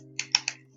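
Three quick clicking keystrokes on a computer keyboard while code is typed, close and crisp, with a steady low hum underneath and no talking.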